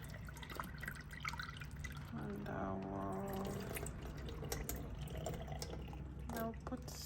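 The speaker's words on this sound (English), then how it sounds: "So I'm just going to drain the water out" Rinse water drained off red speckled beans, a close trickling and dripping stream, with someone talking over it.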